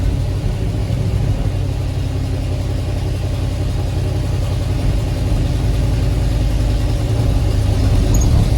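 An old Ford F-100 pickup, revived after sitting for years, runs with its engine rumbling steadily up close while the transmission engages gears; the low, continuous drone holds level throughout with no one talking.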